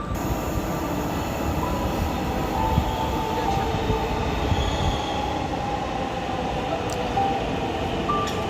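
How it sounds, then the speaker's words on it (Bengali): An Uttara-bound metro train pulls into the station with a continuous low rumble and rolling wheel noise, joined by faint high squeals and occasional clicks. "চলে এলো সেই উত্তরাগামী মেট্রো"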